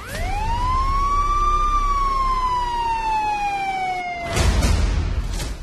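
A single loud ambulance siren rises into one long wailing sweep that slowly falls, then breaks off into a burst of noise.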